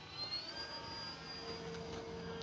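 An E-flite Draco 2.0 m RC plane's electric motor whines at half throttle, a steady high-pitched tone with a slight rising pitch early on, close and continuous without speech.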